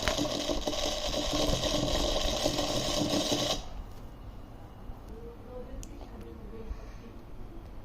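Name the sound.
DIY kit vacuum cleaner running, sucking thermocol balls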